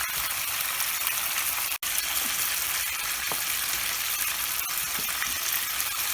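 Tilapia fish fry in hot oil over high heat, a dense, constant sizzle with occasional pops and a single brief dropout.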